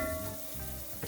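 Andouille sausage sizzling in a gumbo pot over a roux, a steady close frying hiss lasting about a second with a brief stir near the end.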